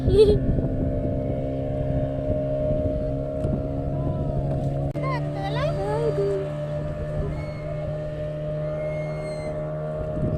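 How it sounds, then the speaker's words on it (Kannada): A motorboat runs on open sea water near a kayak off Mangalore, giving a steady droning hum throughout, with people talking over it. "ಬೋಟ್ ರಪ್ಪ ಹೋಗ್ತದೆ ಮೋಟರಲ್ಲಿ"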